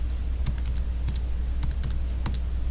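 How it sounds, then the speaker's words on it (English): Keys being pressed on a graphing calculator keypad, heard as a sparse series of light, close plastic clicks over a steady low hum, with no talk. "I'm going to go to the y equals in my calculator, and I'm going to type in 10x plus 3,"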